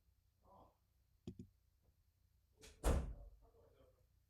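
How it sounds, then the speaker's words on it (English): A front door opens or closes indoors with a couple of sharp latch clicks followed by a single louder thud, all fairly faint and close, with no talking. "Did you open the front door?"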